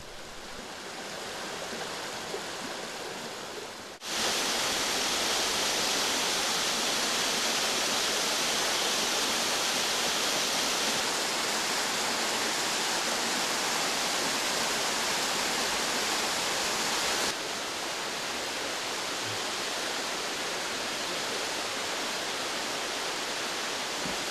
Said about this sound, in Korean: 산 위로 오를수록 물소리는 더 요란하게 귀를 치는데